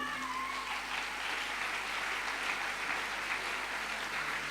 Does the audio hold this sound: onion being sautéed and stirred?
no